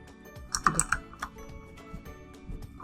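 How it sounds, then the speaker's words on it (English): Quick, light keystrokes on a computer keyboard, an uneven run of close, soft clicks and taps lasting a few seconds with no talking. "All you have to do is type what you want"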